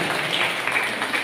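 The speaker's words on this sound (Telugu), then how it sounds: "అందరం గట్టిగా చప్పట్లతో" Audience at a Christmas gathering clapping steadily in welcome, a dense even patter of many hands without pause.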